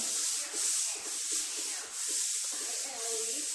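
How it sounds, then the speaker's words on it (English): Steady back-and-forth hand sanding of a 2010 Honda Civic sedan fender with 400-grit paper, rhythmic rasping strokes about every half second, close and continuous with no talk. "I'll come back and sand all this out with 400 just to put a DA scratch in it"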